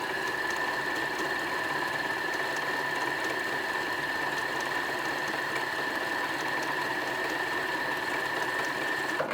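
A sewing machine stitching flannel pants runs steadily and loudly for the whole stretch, a continuous mechanical whir with a constant high tone and no pauses.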